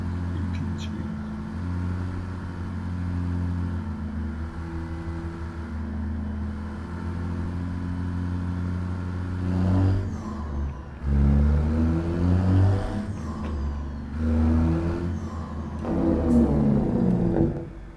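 Kenworth truck in American Truck Simulator, fitted with an 800-horsepower Caterpillar C16 engine and an 18-speed gearbox, drones in a steady low rumble with layered harmonics, then surges and dips through several shifts and revs in the final stretch.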